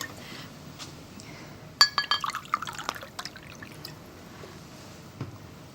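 In a 1974 BBC television staging of Chekhov's play The Wood Demon, a glass clinks and liquid splashes as a drink is poured, a quick burst of bright taps and trickling that fades into quiet room tone.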